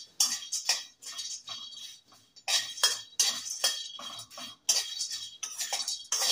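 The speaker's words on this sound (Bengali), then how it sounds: "কন্টিনিউ নেড়ে নেড়ে এলাচটাকে ভাজবো যাতে কোথাও না পুড়ে যায়" Cardamom pods dry-roast in a pan as they are stirred continuously for a fish-bait spice mix, giving close, busy scraping and clinking strokes in a steady rhythm.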